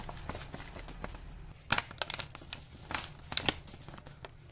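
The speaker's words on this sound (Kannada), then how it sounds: "ಈಗ ಈ ಫುಲ್ ಪ್ಯಾಕೆಟನ್ನು ಕುದ್ದಿರೋ ಹಾಲಿಗೆ ಹಾಕ್ತಾ ಇದ್ದೀನಿ." Weikfield falooda mix packet being emptied into boiled milk, giving close, soft, crinkly plastic rustles and crackles in irregular bursts with no talking.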